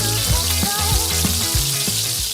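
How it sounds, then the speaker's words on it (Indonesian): Milkfish frying in a wok gives a dense, constant sizzle that fills the whole stretch, with soft bubbling pops and no voices. "Pertama kita akan goreng sampai garing ikan bandeng ini di wajan."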